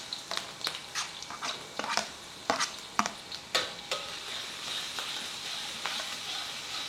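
Garlic frying and being stirred in a pan with half-wilted onion for sambal with anchovies and eggplant, a steady close sizzle broken by repeated scraping and clacking stirs, no voices.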